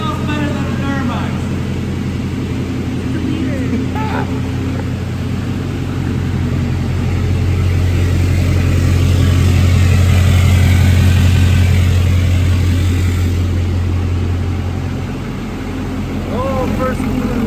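A Duramax diesel engine in a tall, heavily built truck rumbles loudly and close, its deep drone swelling in the middle as it revs, then settling back, with voices in the background.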